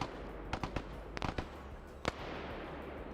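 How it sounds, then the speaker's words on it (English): Video game crossfire in a search-and-destroy match near machine gun bunkers crackles as scattered sharp gunshots, a few in quick clusters and one louder crack, heard at moderate distance over steady background noise. "I thought they were shooting over here, but that's just crossfire from that spot"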